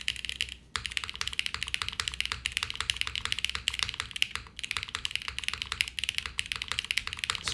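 Close, rapid keystrokes on a JRIS80 mechanical keyboard build fitted with soft keycaps, in steady clattering bursts with one brief pause early on and no talking.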